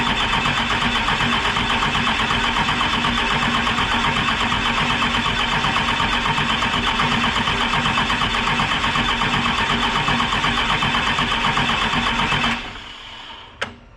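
A 12-valve Cummins diesel swapped into an OBS Ford truck cranks at full throttle with a steady, loud, rhythmic churning drone that stops abruptly near the end, followed by a single sharp click.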